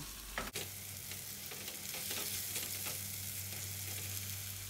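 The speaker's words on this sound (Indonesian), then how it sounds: "Tumis bumbu sampai benar-benar harum dan matang." A spice paste with bruised galangal, lime leaves and bay leaves sautés for a young jackfruit vegetable stew, giving a steady, close sizzle with a sharp clink near the start and no voices.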